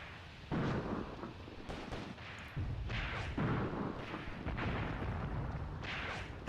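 Soviet WW2 artillery strike pounding German attackers in a video game: a string of heavy booming blasts and rumbling impacts, loud and repeated with short gaps between them.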